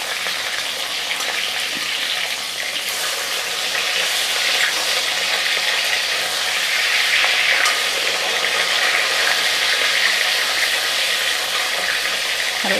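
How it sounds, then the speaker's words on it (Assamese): Large pieces of rohu fish fry in hot spattering oil in a pan, a loud, steady, close sizzle that crackles continuously throughout without any talking. "তেল ফুটুকি আহিছে।"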